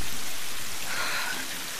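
Steady rain pours in the Tomb Raider video game, a constant close hiss of falling drops with no talk over it.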